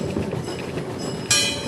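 A steam train in Los Gatos, California rolls along the track with a steady, close rumbling clatter, then a sudden louder hissing burst near the end; no voices.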